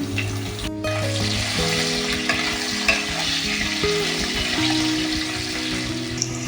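Potatoes sizzle while frying and being stirred, with scraping and clinking of a utensil against the pan throughout.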